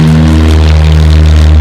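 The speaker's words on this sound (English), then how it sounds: "Here is a comparison between the sound inside a traditional jet engine plane" Loud, steady cabin drone inside a traditional jet-engine plane, a constant deep hum with strong low tones and broad rushing noise, unbroken throughout.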